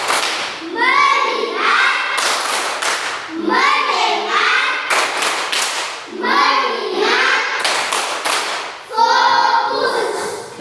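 A classroom group plays the Tepuk fokus ice-breaking game, sharp rhythmic hand claps in short bursts alternating with chanted spoken words from the group, close and loud.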